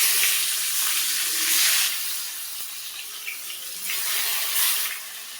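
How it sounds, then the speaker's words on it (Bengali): Stingray fish pieces frying in hot oil in a wok, a steady close hissing sizzle that swells and eases in waves. "এখন আমি একে একে শঙ্কর মাছগুলো ভাজার জন্য দিয়ে দিলাম"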